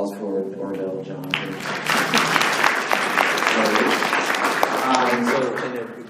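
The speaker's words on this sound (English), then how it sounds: "A special round of applause for Orville John." After a brief spoken introduction, an audience at a government and public service leadership speaker series breaks into warm, sustained applause, sharp individual claps standing out as it swells and then begins to taper.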